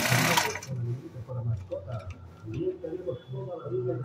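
A vintage Singer Magic Bobbin sewing machine sews a three-step stitch, its needle tapping in a quick, steady rhythm close by at moderate volume, following a brief loud burst at the start.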